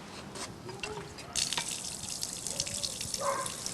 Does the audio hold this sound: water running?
yes